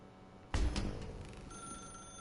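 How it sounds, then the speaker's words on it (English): A telephone rings once in The Stanley Parable, a loud sudden bell burst with a decaying ring that trails off, no voices over it. "That's her, Stanley. You need... Oh, no, you can't... Did you just unplug the phone"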